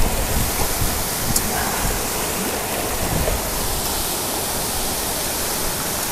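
Constant roaring rush of falling water, broad and steady like a waterfall about 25 metres high close by, with no other sounds standing out.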